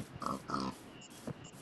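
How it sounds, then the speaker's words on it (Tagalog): Two pigs oinking in a Minecraft-like survival game, a pair of short grunting snorts close by, followed by a softer third grunt, with no talk over them. "Ayun, may dalawang baboy."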